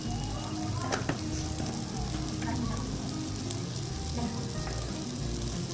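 Sliced onions and green chillies fry in hot oil in a pan for egg biryani, a continuous close sizzle with small pops and crackles throughout.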